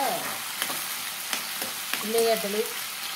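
Mustard and other tempering seeds fry with moong dal in hot oil, a steady close sizzle with crackling pops and a few stirring scrapes, no voices.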